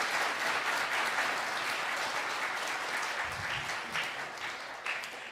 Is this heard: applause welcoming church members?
yes